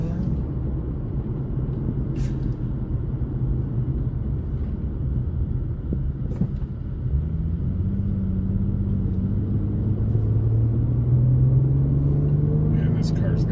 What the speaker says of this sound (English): this car's got a little more get up and go than my truck